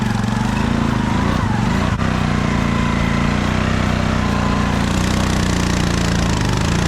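A Polaris 6x6 ATV engine roaring at steady high revs while its wheels spin in thick mud, loud and close throughout with a brief dip before the roar picks up again.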